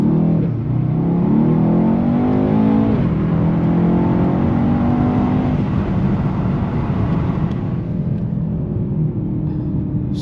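A 2019 Mercedes-AMG E63 S sedan accelerating hard, its engine roaring loud and steady with a rising pitch that drops sharply as it shifts gears, then keeps building in a continuous close-up drone.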